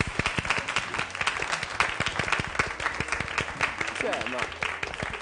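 Studio audience applause with dense hand clapping on a cooking game show set, steady and fairly loud throughout, with someone speaking briefly over it.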